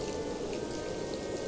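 Rain falls steadily through a wet night, a dense, even patter of drops that continues without pause and without voices.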